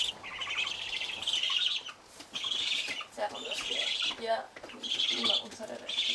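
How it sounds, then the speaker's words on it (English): Young hand-raised hermit ibises, also called northern bald ibises, give repeated high chirping calls in short bursts, fairly faint, with brief pauses between groups of calls. "the hermit ibis is one of the most endangered birds in the world"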